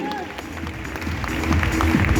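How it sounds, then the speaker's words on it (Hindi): An event audience applauds as a young girl is invited onstage, the clapping building steadily under music and crowd noise over two seconds. "एवरीवन जोरदार तालियां"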